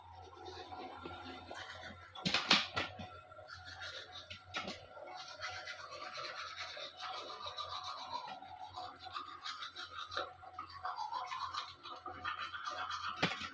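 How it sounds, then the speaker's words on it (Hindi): Teeth being brushed with a toothbrush, a close, steady scrubbing and scratching rhythm with brief louder strokes, faint and continuous without talk. "गाइस ब्रश करने के बाद मिलते हैं।"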